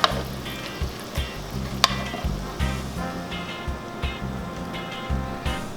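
Elk steak pieces sear in a pan on a stovetop, a loud close sizzle with rhythmic scraping and stirring pulses and a sharp clank, otherwise without voices.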